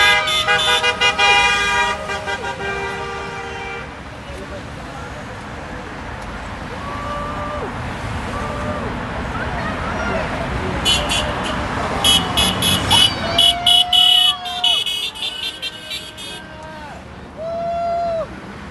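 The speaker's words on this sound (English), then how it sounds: "Come on, give it a honk." Car horns toot repeatedly at a street protest over shootings by federal agents, short bursts and longer blasts over traffic and crowd noise, with voices chanting and cheering throughout.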